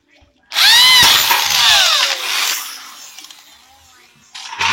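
A power drill fitted with a rivet adapter whirs loudly for about two seconds while setting rivets on a small minimalist metal frame, then winds down with fading rattles before a brief second burst starts at the end.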